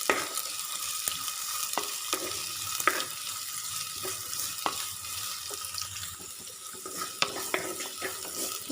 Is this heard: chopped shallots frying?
yes